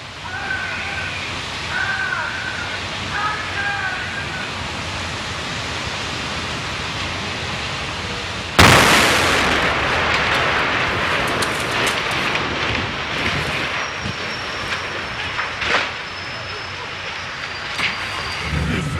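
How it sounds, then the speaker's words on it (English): Film set explosions: a sudden loud broadband blast about halfway through, following steady noisy ambience with some voices, then a rumbling, crackling wash that lingers. "I could give you 2 explosions tonight"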